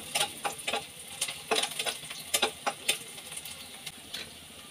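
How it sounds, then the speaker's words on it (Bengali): Chopped onions stirred and fried in oil in a frying pan, giving a soft, steady sizzle broken by sharp crackles and scraping stirs in an irregular rhythm, close and moderately quiet. "পেঁয়াজটাকে তেলের সাথে নেড়েচেড়ে 1 মিনিটের মতো ভেজে নিব।"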